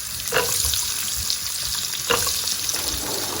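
Dried chilies and roughly chopped onions fry in oil in a pan for a cauliflower potato curry, making a steady close sizzle with a few soft stirring clatters and no talking.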